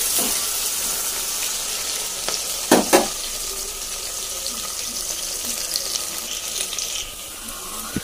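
Onions sizzle in a pan as pulao is cooked, a steady close hiss of frying broken by a couple of sharp clatters from a stirring utensil.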